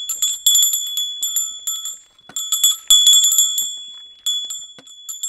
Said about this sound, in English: Or maybe you'd prefer to take a bell with you.